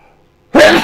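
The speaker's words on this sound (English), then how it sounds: "I hope I stop sneezing." A single sharp sneeze from one person bursts out after near silence, loud and close.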